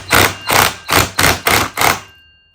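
Six evenly spaced, firm taps ring out as a nut is knocked down into place on a Honda Navi, each a short sharp thud close up, fading at the end.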